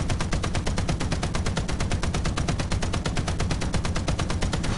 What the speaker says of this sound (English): I now have manual control of my machine gun